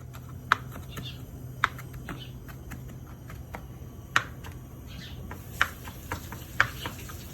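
Knife chopping fresh mint and oregano herbs on a board, a few sparse, sharp taps spaced irregularly over a quiet background hum.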